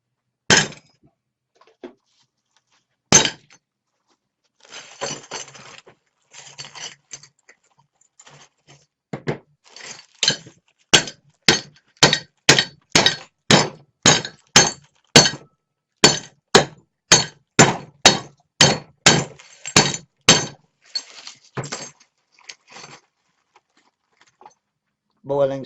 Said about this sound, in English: Get your technical science tool, hammer.